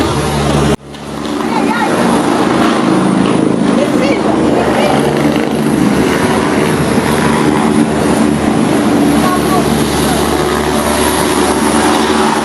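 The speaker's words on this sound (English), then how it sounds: "This rescue helicopter had the bad luck to hit some power lines" A rescue helicopter flies close by, its rotors and engine making a dense, loud roar that holds steady for the whole stretch after a brief dip near the start.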